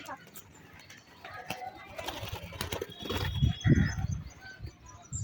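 A Rajshahi Giribaz pigeon, a new adult bird, flaps its wings in flight, giving a run of flutters and sharp wing claps that swell louder around the middle and end over a faint outdoor background.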